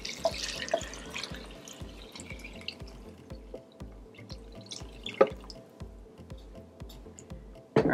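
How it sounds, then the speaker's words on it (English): Broth is poured over beans in an Instant Pot, giving a close, steady stream of liquid with small splashes and one louder splash near the end, with no voices. "we're gonna go ahead and add our broth in"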